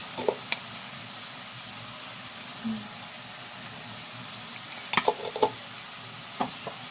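Chicken liver frying in a pan sizzles softly and steadily while being stirred, with occasional sharp scrapes and clicks of the utensil against the pan.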